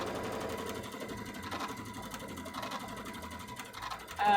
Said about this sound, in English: You're a great machine, and I use you to sew literal plastic.